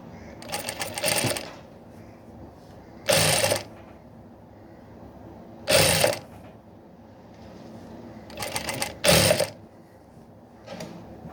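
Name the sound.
sewing machine stitching a blouse neck cross piece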